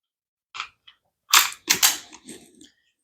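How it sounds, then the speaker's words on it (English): An empty magazine is pushed into a Ruger LC9 pistol, making a few sharp, close metallic clicks and a firmer snap as it seats, with short silences between. "grab an empty mag, put it inside of your weapon"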